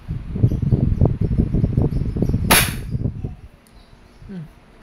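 A Wingun 702 CO2 airsoft revolver fires one sharp, loud shot midway through, over a steady murmur of low background noise.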